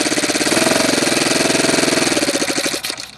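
A Saito twin-cylinder model aircraft engine idles close by with a fast, even, throbbing pulse, loud and steady for nearly three seconds before the beat loosens and fades at the end.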